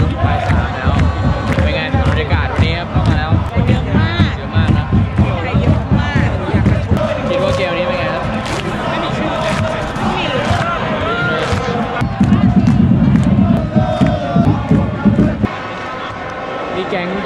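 Thai football fans packed into a stadium in Vietnam roar and chant continuously, a dense, loud crowd din with rhythmic cheering swells and voices talking nearby.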